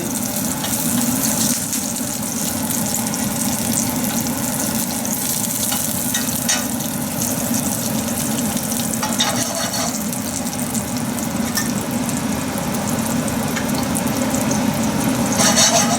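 Whole cardamom and cinnamon fry in a pan for a prawn malai curry, giving a steady, close sizzle with occasional stirring scrapes and light clinks, continuous and loud with no speech.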